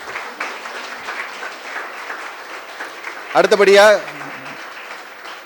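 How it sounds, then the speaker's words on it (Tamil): Audience applause at the Virudhai Women's Icon Award ceremony makes a steady clapping wash throughout, with a voice speaking over it and a short louder vocal burst near the end. "ஒரு பெரிய கைத்தட்டல் கொடுக்கலாமா?"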